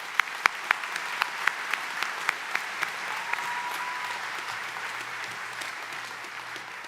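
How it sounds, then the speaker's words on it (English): Audience applause at a graduate commencement ceremony, with a few sharp, distinct claps close by standing out at the start over a steady, moderate clapping from a large crowd in a big hall. "Please join me in giving her an additional applause."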